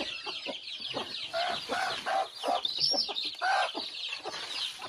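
Chicks and chickens on a small farm cluck and cheep in a steady, busy chorus of short repeated calls, near and fairly loud, with no talking over them.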